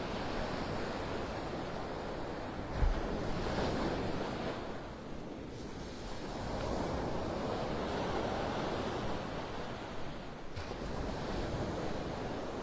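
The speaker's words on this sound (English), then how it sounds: "Look at those waves. We've been listening to those waves all morning this morning." Gulf of Mexico ocean waves breaking on a beach on a stormy morning after a storm came ashore nearby, a loud continuous roar of surf swelling and easing in slow surges, with wind noise over the microphone.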